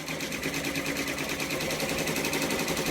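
Multi-needle embroidery machine stitching a Halloween Boo Manor tile design, a fast, steady mechanical chatter of needle strokes running continuously and close at even loudness, with no talk.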